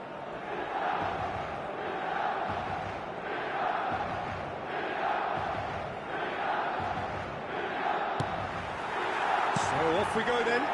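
Stadium crowd noise from an eFootball video game: a steady, rolling roar of chanting fans that swells and dips in waves, with a commentator talking over it.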